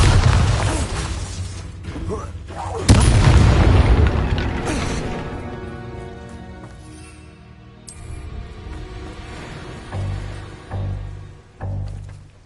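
Bombarda spell explosions in the PS5 game Hogwarts Legacy, loud booming blasts with crashing debris and rumbling tails, several bursts in succession, mixed with game music and effects.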